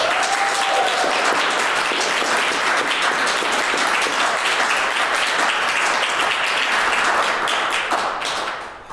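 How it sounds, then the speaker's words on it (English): Loud, dense applause from the audience at a youth poetry finals in Milwaukee, a full sustained wall of clapping that holds strong throughout and begins to fade only at the very end. "Another round of applause for Oscar."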